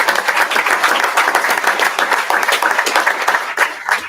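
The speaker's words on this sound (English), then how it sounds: "How about a huge round of applause for Madison?" Steady applause from a crowd at a school board meeting, honoring a student, with dense overlapping claps filling the room at an even level for several seconds.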